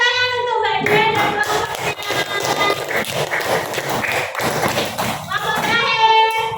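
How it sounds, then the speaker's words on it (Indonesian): A classroom group gives applause to a presenting group, a dense burst of clapping and thumping with voices mixed in. "Beri tepuk tangan untuk Mbak Dian"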